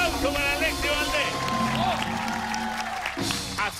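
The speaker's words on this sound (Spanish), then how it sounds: "Gran aplauso para Alexis Valdés" Studio audience applause for guest Alexis Valdés on a television talk show, a steady burst of clapping and crowd noise with a voice speaking over it.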